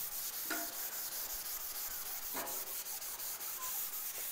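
Scrubbing of a rusty bare steel panel on an HZ Holden car body, a steady rough rubbing hiss with a couple of sharper strokes standing out, close and continuous without any talk.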